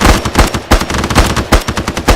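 Bursts of machine gun fire in the Arma 3 military game, loud close rapid volleys broken by short gaps, repeating in several strings with no voices over them.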